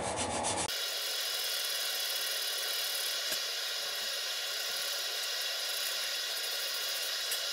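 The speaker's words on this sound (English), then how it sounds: "So I'm just going to take my sander and just try to be it." An electric hand sander works the wooden tail edge of a Great Planes Extra 300S model airplane, shaping a bevel. After a brief opening, a steady, close, unbroken abrasive hiss runs alone to the end.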